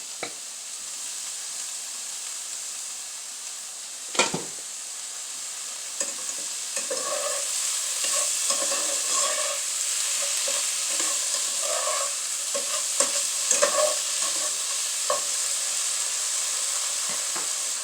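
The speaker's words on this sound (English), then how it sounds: "I got the hot dogs in the skillet." Hot dogs fry in a skillet with a steady bright sizzle and hiss, broken by scattered pops and a few clanks from stirring, close and continuous with no talking.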